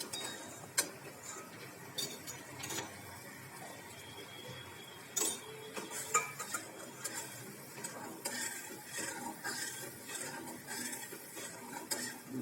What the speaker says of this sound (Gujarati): ચાસણીને આપણે હલાવ્યા રાખવાની છે મિત્રો, જેથી કરીને આપણી ખાંડ નીચે ચોંટી ના જાય.